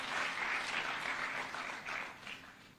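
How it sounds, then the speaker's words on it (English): Audience applauding at a State House closing ceremony in Nairobi, a steady dense patter of clapping throughout, moderately distant and fading gently toward the end. "Can give him a clap as he's coming."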